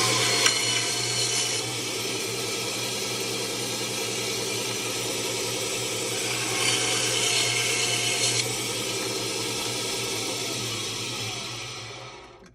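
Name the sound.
mini bandsaw cutting copper wire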